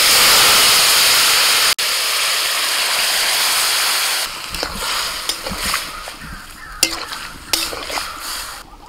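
Pumpkin greens are poured into hot oil spiced with dried red chili, bay leaf and five-spice, setting off a loud, hissing sizzle that settles after a few seconds into quieter stirring and scraping.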